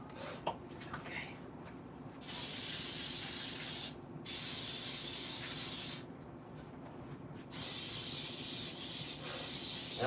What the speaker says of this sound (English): So I have sprayed my pans with olive oil spray.